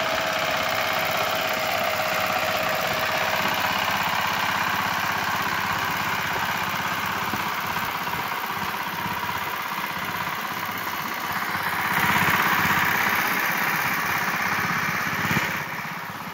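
Tractor engine straining while ploughing a flooded paddy field, a steady, loud, continuous drone that swells briefly near the end, with no talk.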